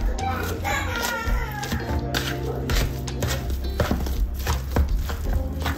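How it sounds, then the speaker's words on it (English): A metal potato masher works boiled potatoes in a pot in a home kitchen. It gives repeated soft, squishy thumps and knocks in an irregular rhythm, close up. "I'll just mash that up really good. So you want to get yourself a potato masher."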